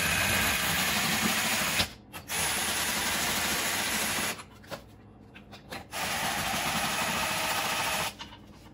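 A power gun runs bolts down on a Mercruiser Alpha 1 Gen 1 stern drive in close, steady whirring bursts of a few seconds each, separated by brief pauses.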